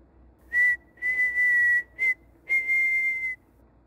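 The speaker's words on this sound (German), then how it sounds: "Ah, jetzt pfeift sie immer wieder." A character in the video game Prey whistles a repeated single-pitched note in four clear bursts, some short and some long, steady and fairly close with nothing else over it.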